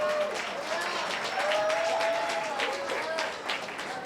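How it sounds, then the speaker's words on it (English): Audience applause for contestants at a local Burlington Idol singing competition, a steady roomful of clapping and cheering that swells and eases slightly, with a few high whoops rising above it. "Again, the contestants, give them a round of applause."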